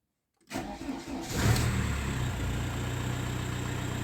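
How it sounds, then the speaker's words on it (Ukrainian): A 2000 Volkswagen Passat B5 with a charging-indicator fault cranks briefly and fires up, then settles into a steady, close idle that holds to the end, with no one talking. "давайте пробуємо заведемо машину і подивимося, чи він буде гаснути в нас"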